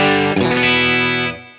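An overdriven guitar amplifier with its volume knob set at about 7 rings out a single loud, sustained distorted chord with chorus-like shimmer, restruck once early and then slowly fading near the end.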